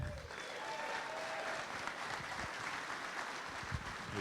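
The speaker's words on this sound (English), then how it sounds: "Ladies and gentlemen, a nice big round of applause for Chairman Wayne McDonald." A crowd claps steadily in a sustained round of applause at a political bus tour kickoff event in Exeter, New Hampshire, even and fairly distant, without speech over it.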